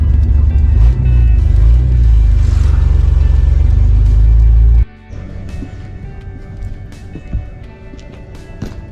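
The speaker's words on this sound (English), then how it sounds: "Not getting any fuel. Huh? Not responsive at all. Oh, here it's breaking down. It's running out of fuel." A Toyota Land Cruiser's 2F engine runs at a loud, steady rumble, then abruptly drops off as it sputters from running out of fuel, leaving a weaker, uneven idle with small surges.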